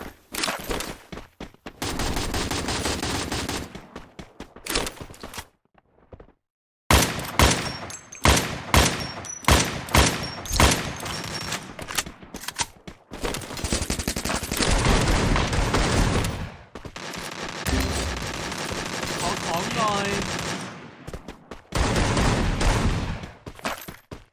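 AC80 gun in a video game firing short bursts of one or two loud, sharp rounds at a time, repeated in close clusters with brief silent gaps between volleys.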